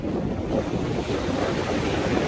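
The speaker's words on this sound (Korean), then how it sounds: "파도는 심하지 않고요" Sea waves wash at Mulchi harbour on a windy day, a steady broadband surf roar with constant wind buffeting the microphone throughout, no voices heard.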